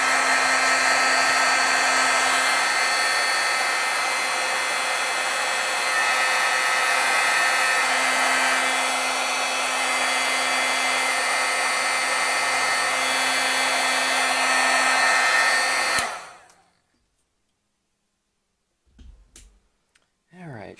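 A heat tool blowing steadily to set aqua foil stamping ink, a loud, close, continuous whooshing roar for about sixteen seconds that cuts off abruptly, followed by quiet with a couple of faint clicks.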